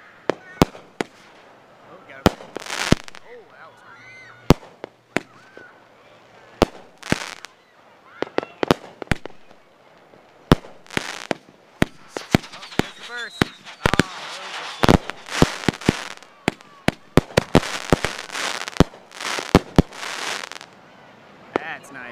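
Repeated sharp mortar shots and crackling bursts from a 36-shot home fireworks show on the 4th of July, loud and close, firing in irregular rapid clusters with a few gaps, building toward a dense finale.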